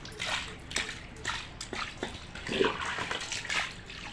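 Prawns being washed by hand in salted water, with repeated splashing and sloshing bursts at a close distance, moderate loudness and an uneven rhythm, alone without talk.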